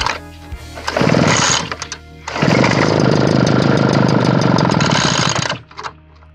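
Badger backpack leaf blower, just primed, coughs into a short burst of two-stroke engine noise, stalls, then starts and runs loud and rattly for about three seconds before cutting out, close by.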